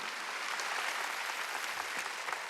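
A church congregation at a Wednesday worship service claps together, a steady, fairly faint patter of many hands heard at a distance without speech.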